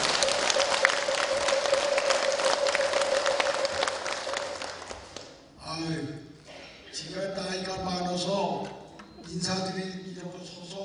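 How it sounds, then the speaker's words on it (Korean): Congregation applause at a Buddhist temple's Buddha's Birthday ceremony welcoming the 93-year-old lay association president, steady clapping for about five seconds, then his amplified speech takes over. "큰 박수로 맞이하시기 바랍니다."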